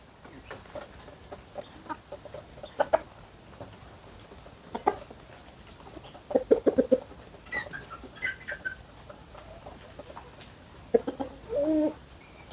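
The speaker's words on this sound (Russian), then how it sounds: "Петух просто красавец, девчата." A rooster gives soft, scattered clucks and short throaty calls at irregular intervals over a quiet background, fairly close by.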